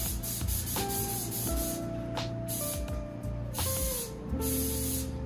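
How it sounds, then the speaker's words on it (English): A steady, close hiss of canola oil non-stick cooking spray on a pan runs continuously for several seconds, with no talking. "Canola oil. Non-stick spray on your pan."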